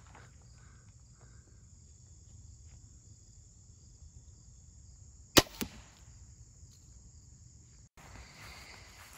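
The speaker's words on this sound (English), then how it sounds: "we're gonna try 125 grain Black Hornet serrazer out of the Ripper 415" A crossbow, the Ripper 415, fires a 125-grain Black Hornet broadhead bolt at 20 yards: one sharp, loud snap of the release, a quick second thud a moment later, all against quiet outdoor insect chirping.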